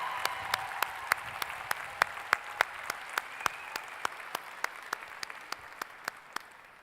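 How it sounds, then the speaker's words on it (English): Origami Owl convention audience applauding, with sharp, evenly spaced claps beating out a steady rhythm over a soft, faint bed of scattered crowd clapping, moderately quiet overall. "Give yourselves a round of applause for being here."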